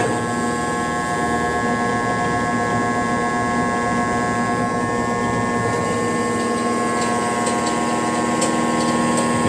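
A 1000-ton Clifton hydraulic coining and hobbing press building pressure, heard as a loud, constant, steady hum and whine with no breaks throughout, and a few faint ticks near the end.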